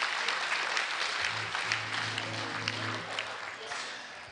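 An audience claps for a professor at a university valedictory lecture in Nigeria, a dense, steady applause filling the hall, with a low hum running underneath partway through.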